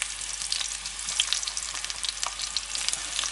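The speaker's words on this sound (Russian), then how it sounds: "Яблоки тоже будем обжаривать на растительном масле." Apples fry in vegetable oil in a pan, giving a close, continuous crackling sizzle with small pops and no voices.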